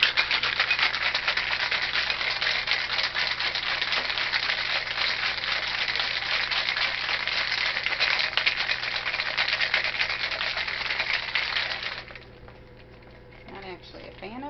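A tequila cocktail rattles hard in a shaker, a fast steady jangle of ice held at the same loud level for about twelve seconds before stopping abruptly, leaving faint room noise and a small clink.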